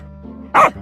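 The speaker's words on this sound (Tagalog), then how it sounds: "May malaking aso." A single short, loud bark from a large cartoon dog, close and abrupt, following a brief low tone.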